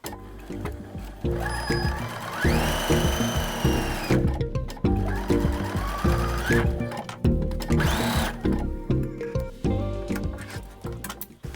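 A sewing machine stitches a quarter-inch seam on a triangle-in-a-square quilt block, its needle chattering rapidly in short bursts, with whirring speed-ups and brief pauses between runs.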